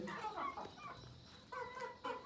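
Home-raised chickens, hatched and reared from chicks, cluck in a fairly steady stream of short calls, loud and close with small pauses between bursts.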